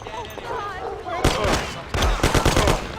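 Gunshots in the 1930s gangster game Mafia, a rapid volley of loud cracks following shouted voices, then a second burst of quick repeated shots close by.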